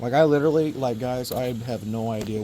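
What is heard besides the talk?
No everyday noises stand out.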